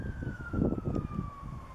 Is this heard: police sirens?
yes